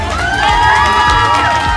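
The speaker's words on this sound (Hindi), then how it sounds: "जोरदार तालियां हो जाए" Excited cheering and shouting from a crowd, with children's voices, at a Ganesh Chaturthi celebration in Gujarat; loud, close whoops and calls with overlapping voices.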